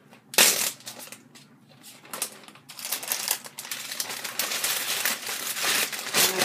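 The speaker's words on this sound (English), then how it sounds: "And then I'm going to get a gallon zipper bag thing." Loud plastic crinkling and crumpling, irregular bursts of rustling as a gallon zipper bag is handled close up.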